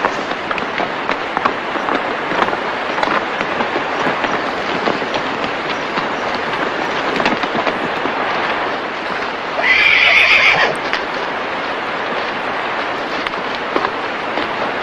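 A horse whinnies once, fairly loud and close, over a steady outdoor rumble with faint hoof-like clatter; no one speaks.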